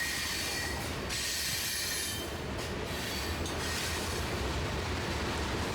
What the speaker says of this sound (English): a maintenance of way train, loaded with ballast, a unit ballast train